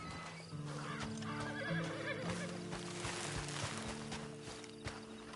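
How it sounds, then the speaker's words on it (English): Horse in a video game whinnying with a wavering neigh while hooves clip-clop beneath it, set against steady droning game music and ambience. "Then you better get on this horse."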